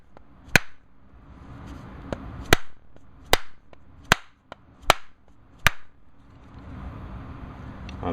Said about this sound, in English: So I'm going to try to just tap it out with a hammer.